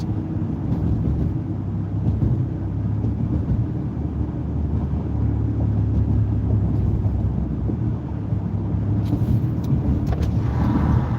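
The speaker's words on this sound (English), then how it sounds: "This car's going way faster than me. You can hear it and see it." A car rushes along with a steady roar of engine and road noise, heavy wind buffeting throughout and a brief rattle near the end.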